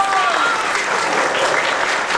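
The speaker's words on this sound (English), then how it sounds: "let's give our divers one more great big round of applause" Loud, dense applause from a crowd at an underwater kelp forest stamp unveiling at Monterey, honoring divers, with a brief whistle at the start and continuous clapping throughout.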